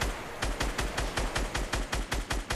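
Rapid, evenly spaced automatic gunfire from a video game with a ramp-rush moment, roughly a dozen sharp bursts in steady rhythm, loud and close, with no talk over it.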